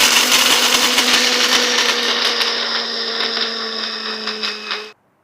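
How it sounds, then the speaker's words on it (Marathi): Electric mixer grinder whirring loudly as it grinds almonds and sugar in its jar, a steady high whine that runs close and unbroken for about five seconds and then cuts off abruptly. "मिक्सरच्या भांड्यामध्ये बदाम टाकून घेऊ आणि याच्यामध्येच साखर देखील टाकायची."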